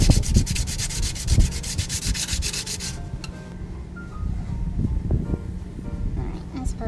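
Hand sanding with 220 grit sandpaper across the transmission pan of a 1964 Dodge Custom 880's TorqueFlite A727, lifting light oil staining; close, steady rasping strokes run for about three seconds, then quieter scuffing and handling noises follow.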